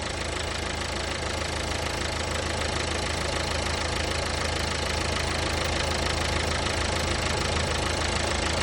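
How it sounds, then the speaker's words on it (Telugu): A Nissan Sunny engine with high smoke and about 340,000 km driven idles steadily up close, an even, continuous mechanical drone with a faint ticking knock throughout and no voices. "ఇంజన్ నాయిస్ అనేది వితిన్ మినిట్స్లోనే చాలా కూల్ అయిపోయింది"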